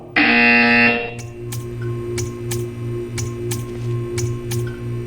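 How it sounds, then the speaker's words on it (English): A loud, harsh buzzer from the video game Portal 2 blares for about a second, then a softer electronic hum continues with a rapid, regular series of short clicks. "You will hear a buzzer."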